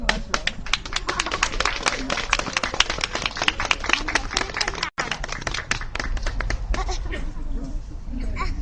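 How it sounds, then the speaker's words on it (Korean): An outdoor rally crowd applauds to welcome a speaker at a March 1st movement commemoration, a dense, steady wash of clapping that thins slightly toward the end, with voices mixed in. "우리 김영우 상임대표님 나오실 때 여러분 힘찬 박수로 맞아주시기 바랍니다"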